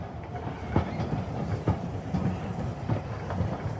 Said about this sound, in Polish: 14 marca do miasta wjechał carski pociąg.